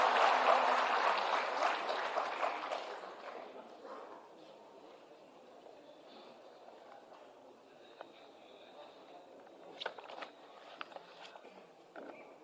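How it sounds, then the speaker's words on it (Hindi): Applause from the crowd at a government event for teachers' appointment letters fades from fairly loud to scattered claps within a few seconds, leaving a quiet hall with occasional isolated claps and bumps. "जोरदार तालियों"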